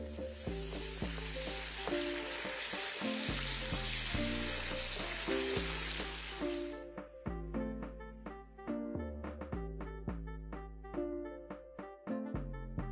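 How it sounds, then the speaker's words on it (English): Tomato puree frying in a pan on medium heat, a steady bright sizzle through the first half that suddenly cuts out, leaving background music playing alone. "This is why I'm frying it on medium heat, as it would easily burn."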